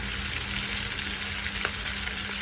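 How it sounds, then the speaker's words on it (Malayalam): Marinated chicken frying in a little oil for a home-style chicken curry, a steady dense sizzle with a constant crackling hiss and low hum, close and unbroken throughout. "അതിനെ പുരട്ടി പൊരിക്കുകയാണ്."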